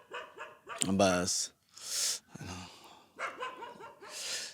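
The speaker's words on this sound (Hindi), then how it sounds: "कुछ कुत्ते भी भौंक रहे हैं" Several dogs bark in bursts in a forest full of monkeys, the yelps fairly close and mixed with a voice talking between and over them.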